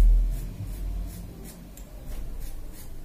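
Scissors snip repeatedly through wavy hair while layers are cut, a series of soft close rubbing cuts at an uneven rhythm, with no one talking.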